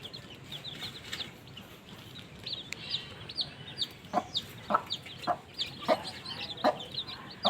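A hen clucks repeatedly at close range, while high, thin peeping from chicks comes through in quick bursts over a quiet outdoor background.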